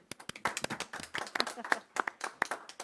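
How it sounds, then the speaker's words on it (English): Scattered handclaps from a small group of council meeting attendees, a few sharp irregular claps over roughly three seconds with voices murmuring faintly underneath. "He's online, so you can clap for him"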